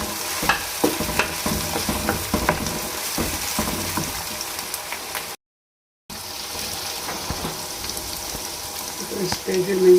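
Chopped tomatoes go into a hot pan for chicken steak biryani and sizzle steadily while a spoon stirs and scrapes against the pan. Brief silence falls midway, then the frying and stirring go on.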